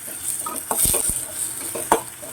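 Onions sizzle in a pan while a spoon stirs and scrapes through them, with a steady frying hiss broken by a few sharp clinks against the pan.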